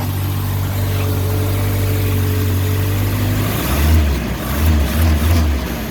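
A 1977 Toyota Chinook with a 20R engine and Weber carburetor idles on a cold start with the choke on, a loud steady rumble near the microphone that lifts into a few brief revs toward the end.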